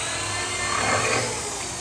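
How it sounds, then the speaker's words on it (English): A power drill bores steadily into a wood slab front door, a continuous close whine and grind holding level for a couple of seconds. "So we're gonna drill halfway"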